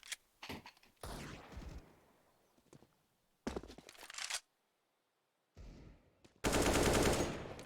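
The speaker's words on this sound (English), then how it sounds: "AK sprays, Kazoo goes down." Counter-Strike AK rifle gunfire on the Inferno map, heard as several loud bursts of rapid automatic shots separated by short quiet gaps, with footstep-like clatter between them and a long sustained burst at the end.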